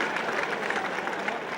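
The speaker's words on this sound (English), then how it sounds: "Listen to the crowd." A large crowd at a 1978 VFL Australian rules football match between St Kilda and Essendon at Moorabbin applauds and roars in a steady, dense wash of sound that continues unbroken throughout.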